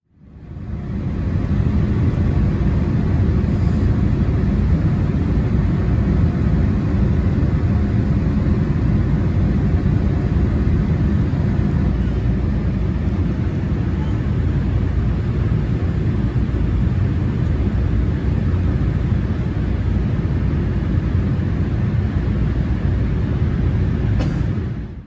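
Inside the economy cabin of an American Airlines Boeing 787 Dreamliner in flight near downtown Chicago and Lake Michigan, a loud, steady low engine and airflow roar fills the whole stretch without a break.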